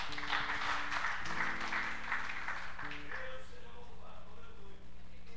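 Congregation applause at a church service, a dense, steady wash of clapping running throughout while music plays underneath and voices carry over it.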